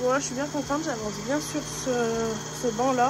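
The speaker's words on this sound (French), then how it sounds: "Ce que vous entendez, c'est le compresseur" A steady mechanical hum of an airbrush air compressor drones beneath someone speaking close up in French throughout.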